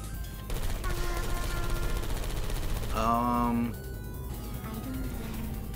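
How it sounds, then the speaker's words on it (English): Rapid bursts of gunfire from turrets in the Portal 2 video game crackle steadily, joined by rising electronic tones and game effects partway through. "look out for gunfire"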